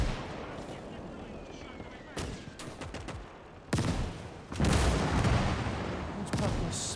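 Gunfire and artillery blasts in a WWII German campaign strategy game, with a quieter battle bed broken by sharp bursts and heavy booming volleys that grow louder and denser toward the end, overlapping one another.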